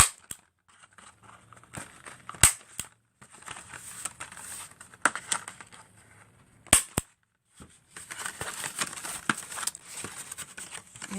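Stapler closing a paper plate craft, with two sharp loud snaps several seconds apart among soft paper rustling and handling noises nearby.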